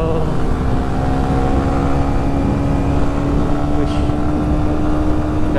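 A Suzuki GSX Bandit 150 cc motorcycle engine runs steadily while touring, a loud continuous droning hum with a smooth even tone, heard from the rider's position with wind noise.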